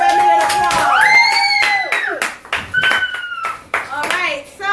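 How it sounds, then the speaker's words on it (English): Hands clap in applause for a birthday guest named Emmy, bursts of claps mixed with bright, high cheering voices that rise and fall over the top. "Everybody give Emmy an applause."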